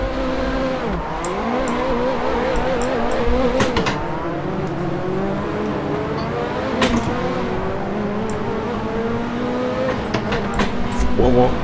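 Car engine in a racing video game played with a Thrustmaster TH8A shifter, revving up and down through gear changes with tire squeals, while a person talks over it.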